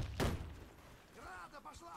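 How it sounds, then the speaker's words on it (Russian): A grenade goes off in the Warface shooter game as a single heavy, booming thud near the start, followed by quieter game sounds and what may be voices. "Граната!"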